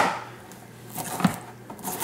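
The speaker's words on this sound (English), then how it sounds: "And I already chopped off some cauliflower, but I'm just going to rough chop it." A knife rough-chops cauliflower into smaller pieces on a cutting board, making a few sharp, separate chopping knocks against a quiet background with no talking.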